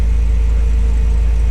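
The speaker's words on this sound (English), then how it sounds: "here I am running the tractor at 1100 RPMs, and the PTO is turning at 550" Tractor engine holding a steady 1100 RPM with the PTO turning at 550, a loud, close, continuous low rumble with no change in pitch throughout.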